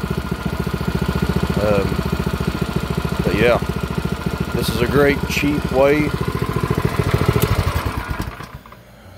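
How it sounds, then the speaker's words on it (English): A small Predator 212 engine on a go kart idles with a steady, near, chugging putter throughout, while someone talks over it, before it fades toward the end. "These little 212 engines, you can't beat them for power. Starts up good."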